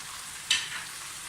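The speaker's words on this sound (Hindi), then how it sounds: "लहसुन अदरक हमारी भून गई है।" Garlic and ginger frying in a pan for Kashmiri chicken qorma, a steady soft sizzle with a brief stirring scrape in the middle, close up and with no talking.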